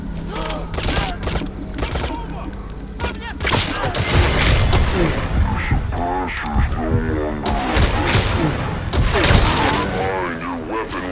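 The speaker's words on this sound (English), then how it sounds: "Стрельба! Позиция стрелка неизвестна!" Rapid bursts of gunfire and thumping impacts crackle through a firefight in Metal Gear Solid V: The Phantom Pain, loud and dense, with shouted radio voices talking over the shots for much of the time.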